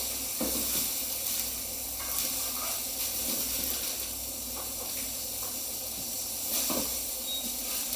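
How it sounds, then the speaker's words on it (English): Pork sears in a hot pan with a loud, continuous sizzle and hiss close up, steady throughout with occasional brief spatters and stirring bumps, and no talk. "So we're going to put it into the pan like that. As you can hear, there's some good sear there."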